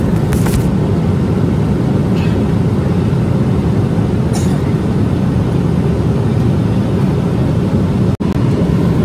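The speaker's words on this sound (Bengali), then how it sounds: "আমাদের বিমান যাত্রা শুরু করেছে কাতারের দোহার উদ্দেশ্যে।" Steady, loud cabin drone inside a Biman Bangladesh airliner climbing out of Dhaka on a night flight to Doha, a dense broadband roar holding constant throughout with a brief click near the end.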